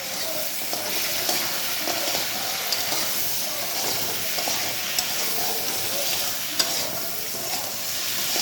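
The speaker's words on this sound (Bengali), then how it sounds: "কচুগুলো কাঁকড়াগুলো একটু ভালোভাবে নেড়ে নেব।" Taro and crab pieces stirred in a pan with a steady frying sizzle and hiss, scraping and clinking of the spatula rising at intervals, close and continuous with no talk.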